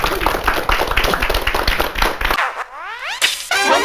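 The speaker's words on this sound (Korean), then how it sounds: "박수 한번." Studio audience applauding a television producer on a Korean talk show, a dense burst of clapping for about two seconds that cuts off abruptly, followed by whistle-like jingle tones.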